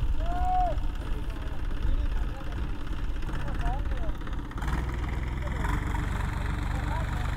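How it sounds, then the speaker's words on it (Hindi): Tractor engine idling with a low, steady rumble at a farm field water tank while a tarp is dragged, the drone constant throughout with faint chirps above it. "और यहाँ से ये ट्रैक्टर खींच के लेके जाएगा।"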